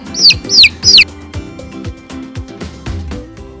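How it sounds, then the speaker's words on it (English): A chicken clucks close by, three sharp high calls followed by a run of lower, rhythmic clucks. "chicken."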